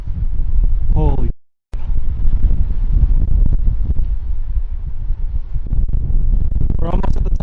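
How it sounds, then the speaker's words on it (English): Strong wind buffets the microphone near a hilltop on a hike, a loud, steady roar that fills the whole stretch with a brief dropout, while a person talks over it. "Wow, that wind is crazy right now."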